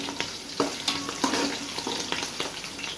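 Chicken paste for a moong dal khichdi dish fries in a pan, soft steady sizzling broken by repeated light scraping and clinks of a spoon stirring, close and fairly quiet.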